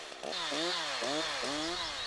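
A Husqvarna chainsaw cuts into a tree trunk from the base upward, its engine droning loud and close, the pitch dipping and rising repeatedly as the chain bites into the wood.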